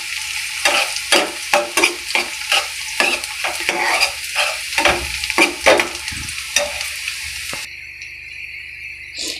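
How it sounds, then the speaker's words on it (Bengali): Onion paste frying in a pan over lowered heat, with a steady sizzle broken by repeated rhythmic scrapes of a spoon stirring it, close and fairly loud; a higher tone enters near the end. "তো এভাবে আমি নাড়াচাড়া করতে থাকবো"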